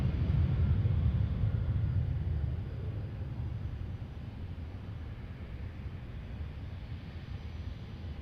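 A private jet departing Boeing Field, a steady distant engine rumble that is loudest at first and then eases to a fainter, even drone.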